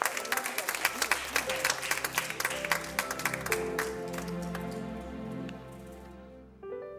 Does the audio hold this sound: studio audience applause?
yes